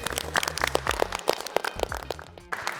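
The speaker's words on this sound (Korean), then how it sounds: "박수 한번 주세요." Players in a girls' high school volleyball gym give a short round of applause, dense overlapping claps close by that run steadily for a few seconds, with low rumbling thumps underneath.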